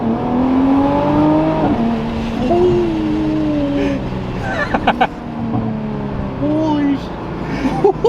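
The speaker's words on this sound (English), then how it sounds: "the titanium exhaust sounds so good" A 2021 Nissan GT-R with a titanium exhaust accelerates hard on a closed course in Mexico, its engine note climbing through several gears with brief gaps between shifts, while occupants exclaim loudly over it.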